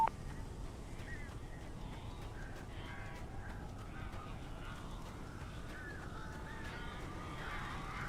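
Several crows caw in the game Alan Wake, harsh calls repeating at close to middle distance over a low rumbling ambient background.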